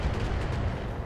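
Heavy weapons fire in the BattleTech mech combat game, a loud, dense rumbling barrage of booming impacts and blasts rolling continuously for about a second.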